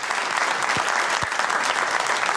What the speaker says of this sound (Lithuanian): Paploja mūsų dalyviams už 3 raundą